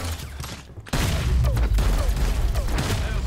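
A dense burst of rapid gunfire in the sci-fi battle royale Hyper Scape, loud and close, starting abruptly after a brief lull and running continuously to the end.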